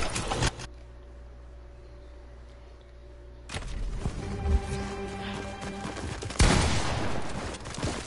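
Sniper gunfire from a first-person shooter match, with sharp bursts of shots and crashes, quiet at first, then heavier from the middle onward and strongest near the end.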